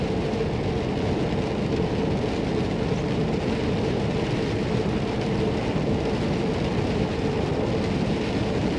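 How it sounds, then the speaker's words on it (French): Rain falling during a drive in Mayenne, a steady, loud, unbroken wash of rain and road noise throughout, with no talking. "Et regardez comment il pleut dans la Mayenne."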